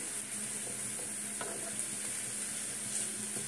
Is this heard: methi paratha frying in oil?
yes